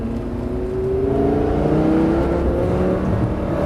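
A Lamborghini engine roars steadily as the car accelerates on a track, its pitch climbing in a sustained, loud whine.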